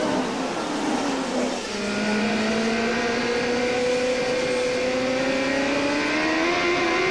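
CART IndyCar race cars accelerate hard at a green-flag restart at the 1995 Miami round, their engines rising in pitch together as one loud, sustained, climbing whine.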